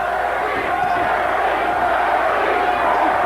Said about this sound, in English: The crowd picks up the chant for Terry Norris, yelling, Terry, Terry.